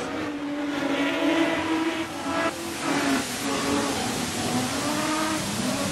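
Modified sedan race cars at Carina Speedway during the Carina Classic final roar past in a steady, distant engine drone with shifting pitch, under a constant hiss of crowd and track ambience.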